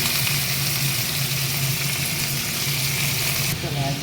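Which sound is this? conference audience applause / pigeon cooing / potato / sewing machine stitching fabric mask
potato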